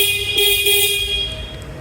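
Horn of a 2024 TVS Apache RTR 160 2V ABS motorcycle, a single sustained nasal toot held for over a second, loud and close with no speech.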